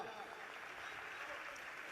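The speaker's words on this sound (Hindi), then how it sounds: "ताली बजाओ।" An audience at a Bageshwar Dham gathering claps in faint, continuous, distant applause that holds evenly throughout.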